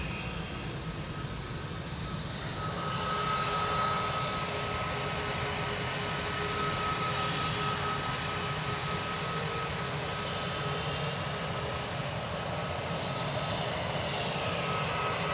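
Airliner touching down at Manchester Airport, its engine roar a steady broadband rumble in the background with a faint tonal whine, heard alone without talk throughout.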